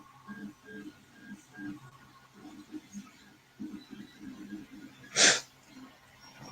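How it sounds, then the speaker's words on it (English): A single loud, sudden sneeze bursts out near the end in a workshop while a saber chassis is being assembled, following several seconds of quiet murmuring and faint handling noises. "I turned my head and sneezed on the floor"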